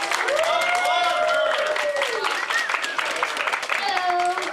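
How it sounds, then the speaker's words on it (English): A crowd claps steadily at an anime convention opening ceremony while voices call out and cheer over the noise, sustained for several seconds. "Give her a round of applause!"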